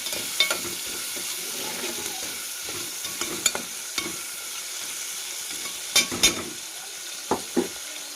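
Fish frying in oil in a home kitchen, with a continuous soft sizzle throughout and scattered sharper clicks and scrapes from stirring or turning the pieces.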